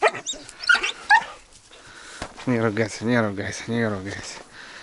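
A dog close by gives a few sharp yips, then drawn-out, wavering whimpers and whines, fairly loud.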